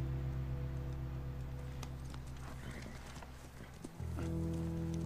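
Faint hoofbeats from horses in The Last of Us clop lightly beneath a loud sustained musical tone that shifts pitch partway through.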